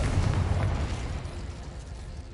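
A Confringo spell explosion in the Hogwarts Legacy video game lands as a short, heavy blast, then a low rumbling decay fading over a couple of seconds.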